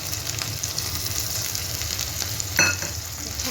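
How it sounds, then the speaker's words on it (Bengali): Ground cumin, ginger and green chili paste fries in a pan for a fish curry, a steady close sizzle with stirring scrapes and a brief louder spatter near the end. "এই যে এখন জিরে বাটা, আদা বাটা আর কাঁচা লঙ্কা বাটাটা ছেড়ে দিল।"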